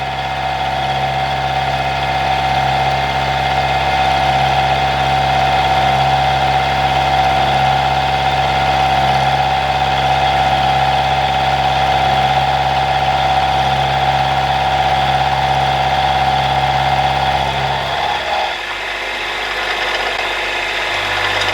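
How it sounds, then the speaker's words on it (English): Milling machine taking a cut with a 12mm carbide roughing end mill, a loud steady machining drone with a high whine and strong low hum throughout, shifting in tone near the end as the cut changes. "I'm running this with a 12mm carbide roughing end mill, and the finish is pretty good to be honest."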